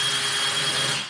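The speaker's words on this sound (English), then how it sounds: "I'm going to drill a hole here." A large Forstner bit drills steadily through the top layer of plywood subflooring during a bathroom remodel, giving a loud, constant whirring grind for about a second.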